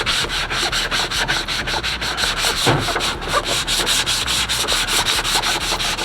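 Hand sanding of a polyurethane KBD SRT front bumper for a Dodge Charger before paint makes rapid, regular back-and-forth rubbing strokes, close and continuous with no voices.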